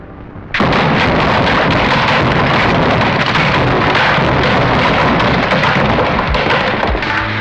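A bomb blast in an action movie hits suddenly and fills everything with a loud, dense roar of rumbling, crackling debris that stays strong to the end. No voices.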